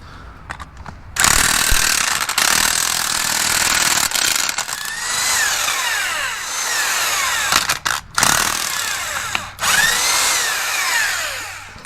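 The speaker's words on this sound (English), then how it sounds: "I'm just going to use my electric impact for these" Electric impact wrench working on 17 mm bolts during a wheel hub bearing replacement: loud, close, sustained whirring hammering bursts with brief stops between them, and no talk.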